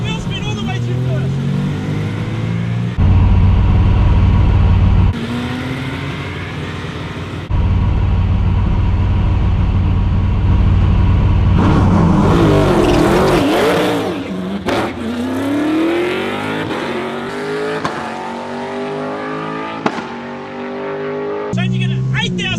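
A race car launches hard with wheel spin through first gear. The loud engine screams up through the gears and revs to high RPM, with excited shouting over it.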